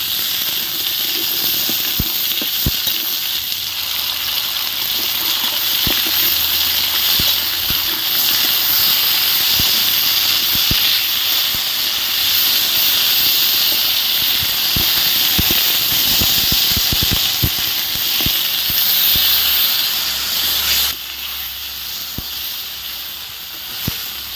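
Potatoes, pointed gourd and drumstick sizzling in hot oil with whole spices, a steady loud hiss and crackle throughout that softens slightly near the end.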